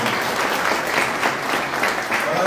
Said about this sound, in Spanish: darle un aplauso a todos.